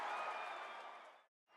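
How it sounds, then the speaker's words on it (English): A stadium crowd roars and cheers after a walk-off win in the baseball video game MLB 15 The Show, a loud sustained wash of noise that fades slightly before cutting out briefly near the end. "the Giants, once again, win a game in a very unusual way as this crowd goes crazy"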